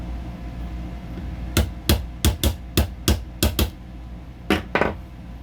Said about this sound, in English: you may need to tap it after that gently with your polymer side of your hammer